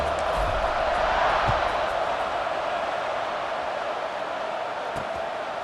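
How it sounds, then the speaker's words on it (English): Football stadium crowd buzzing after a touchdown, a steady dense roar of many voices holding at a fairly loud level throughout, with scattered cheers rising out of the wash. "this crowd is buzzing after that last score"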